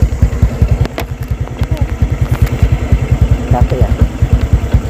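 A motorcycle engine idles close by with a fast, steady, throbbing putter, loud throughout, while a person speaks briefly over it.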